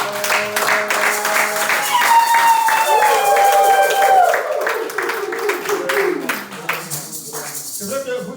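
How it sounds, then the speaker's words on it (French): A congregation at a Sunday church service applauds and cheers for Maman Tété, with dense continuous clapping mixed with raised voices and high cries, then thinning out near the end. "Je veux qu'on acclame vraiment Maman Tété."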